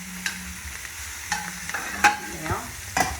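Broccoli rabe is stirred around a hot pan, with spoon scrapes and sizzling bursts coming in uneven pulses over a steady frying hiss, close and fairly loud.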